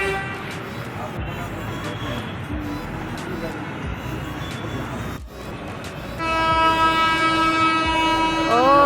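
Railway station ambience with a train rumbling and people talking, then a long, loud train horn sounding steadily near the end.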